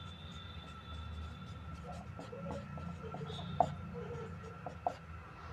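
Pen or marker scratching across a surface while working a Class 10 graphical solution for a pair of linear equations, a steady faint scraping with a couple of sharper taps, under continuous talk.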